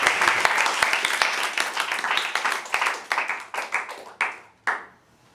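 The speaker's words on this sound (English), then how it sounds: "A round of applause" Audience applause for a speaker at a school debate in Lagos, many hands clapping steadily, then thinning out to a few scattered claps that fade to silence.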